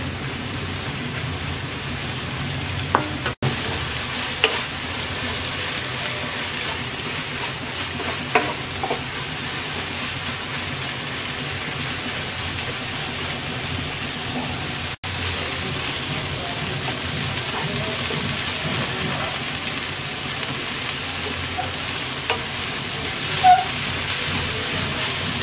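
Radish greens with shrimp being stirred and fried over medium heat in a pan, giving a steady, close sizzle with occasional scrapes and clinks of the spatula, unbroken throughout with no talking.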